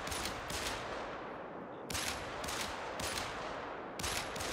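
Gunfire in the hunting game The Hunter: Call of the Wild: a few sharp shots, each ringing into a long fading tail, spaced roughly two seconds apart, loud and with no talking.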